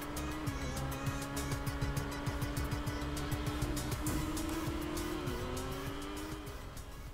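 A car driven in the video game Final Fantasy VII Remake, its engine droning steadily throughout with brief tire squeals and skids, loud and close, without speech.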